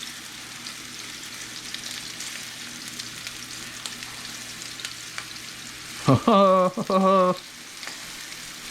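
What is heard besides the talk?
meatballs searing in a frying pan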